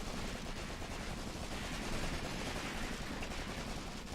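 Submachine guns fire continuously in a Graviteam Tactics battle around a town, a dense unbroken rattle of automatic gunfire at steady loudness throughout, with no voices.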